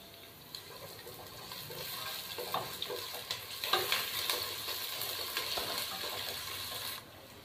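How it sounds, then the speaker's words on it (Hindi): Ginger garlic paste sizzles and spits in a hot pan, with soft scraping from stirring, fairly quiet and close, before stopping abruptly. "अब मैं इसके अंदर अदरक लहसुन का पेस्ट शामिल करूंगा 1 खाने का चम्मच"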